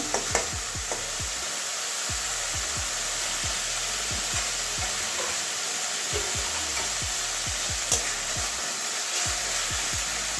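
Masala frying in oil in a pan for an egg and brinjal curry, a constant sizzle with repeated scraping strokes of a spatula stirring at an irregular pace, close up, with no voices.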